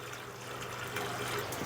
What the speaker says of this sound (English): It's got water running back into it.